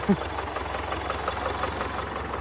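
An MTZ-80 tractor engine runs steadily under load while ploughing a field, a continuous low rumble with a faint regular knock, fairly close.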